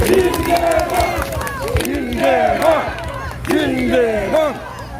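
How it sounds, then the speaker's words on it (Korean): A crowd at a political campaign event for an Incheon mayoral candidate cheers and shouts in loud, rising waves with some clapping, interrupted by brief talk. "여러분 큰 박수를 부탁드리겠습니다"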